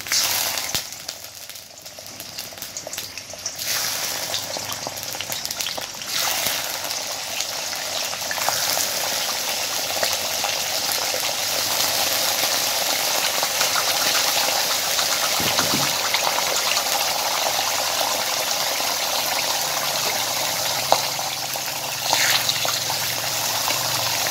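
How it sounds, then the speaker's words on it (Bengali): Paneer frying in hot oil, a continuous close sizzle and crackle that stays steady throughout with faint clatter, no talk. "তো পনিরটা দেব, ভাজবো এখন।"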